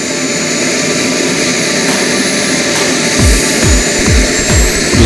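Jet aircraft fly at the Florida International Jet Rally, a loud continuous engine roar with several rapid whooshing passes sweeping by near the end.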